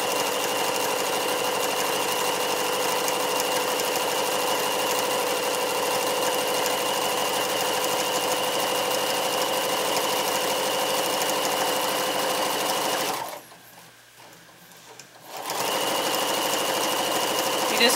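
Sewing machine stitching pajama bottoms, running at a steady loud hum with even rapid needle strokes, briefly stopping for about two seconds near the end before resuming.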